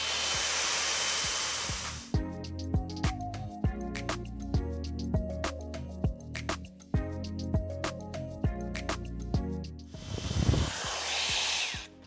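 A Shark FlexFusion air styler blows a loud, steady airy rush while drying and straightening hair, cutting out for a stretch filled with faint clicks and handling taps before the blowing resumes.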